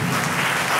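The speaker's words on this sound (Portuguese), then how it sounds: "Você pode aplaudir o nome de Jesus?" A church congregation breaks into loud, dense applause, many hands clapping at once in a continuous wash with no voice rising above it.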